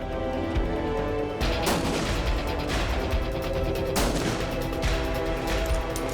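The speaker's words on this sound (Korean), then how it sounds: "표적 식별이 어려울 수밖에 없는 야간 사격" Army snipers' rifles fire during night shooting training, a dense, loud run of overlapping shots and booming reports, sustained throughout.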